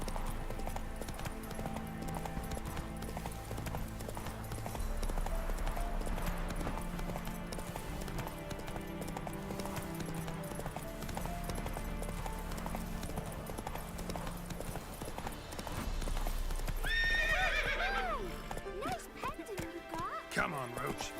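Hooves of Roach, a horse in The Witcher, clip-clop at a steady gallop under game music, with a whinny late on and a voice talking over parts of it.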